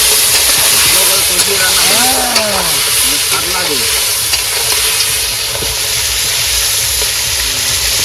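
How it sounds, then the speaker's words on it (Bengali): Crab frying in a pan aboard a boat in the Sundarbans forest, producing a loud, continuous sizzling hiss throughout, with a person talking briefly over it partway through. "বন্ধুরা কাঁকড়া কিন্তু ভাজা হয়ে গেছে"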